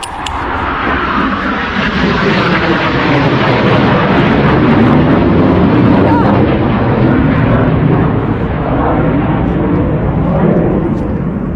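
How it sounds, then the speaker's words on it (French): A loud, steady roar of a jet aircraft passing overhead, broad and rumbling throughout with no pauses. "C'est un avion à réaction"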